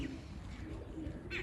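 Domestic pigeons at a home loft give a faint, low cooing that continues steadily through a short stretch of quiet ambient background.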